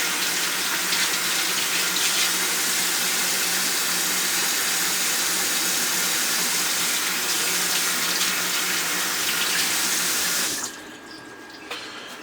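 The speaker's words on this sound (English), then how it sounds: "Wash my hands again. Because now they have avocado all over them." Tap water runs in a strong, steady rush as hands are washed clean of avocado, close and continuous for about ten seconds before the flow shuts off into a quiet room.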